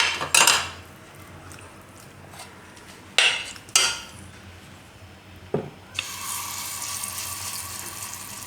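Small spoon clinking and scraping against an appe pan while sweet appe batter is filled in, a few sharp metallic taps spaced apart, then a steady soft hiss takes over near the end.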